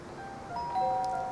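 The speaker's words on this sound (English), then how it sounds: "I rang the doorbell with the flowers" A doorbell chimes in the Life Makeover video game, a soft two-note ding-dong over a steady ambient hum.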